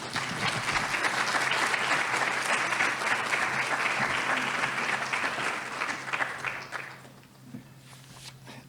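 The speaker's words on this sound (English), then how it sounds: "Let's give a round of applause for Mr." Audience at a college food security summit applauds steadily and fairly loudly for several seconds, the dense clapping thinning and fading out near the end.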